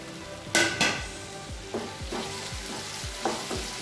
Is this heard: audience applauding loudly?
no